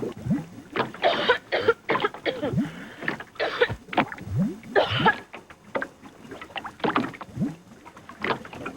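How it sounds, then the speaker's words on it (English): A person in a NyQuil cough medicine commercial coughs in a string of harsh, chesty bursts, irregular and close, with brief pauses between fits. "Cough keeping everyone up?"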